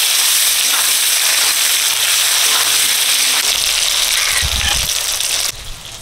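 Five-spice seeds, dried red chillies, bay leaves and other spices hit hot mustard oil for tarka dal, a loud, dense, crackling sizzle that runs steadily and then drops sharply in intensity near the end.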